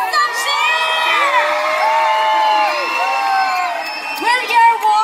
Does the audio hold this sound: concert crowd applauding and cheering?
yes